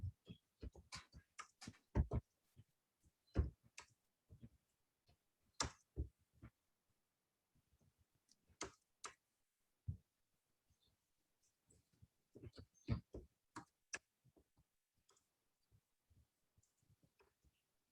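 Keystrokes on a computer keyboard, scattered sharp clicks in short irregular bursts with pauses between, fairly faint and close with no voices.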